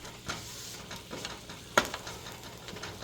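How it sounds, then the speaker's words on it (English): Beef tongues for birria tacos frying in a pan, a soft close sizzle with a few light knocks and one sharp clatter of handling. "I'm gonna get our tongues and start cooking these."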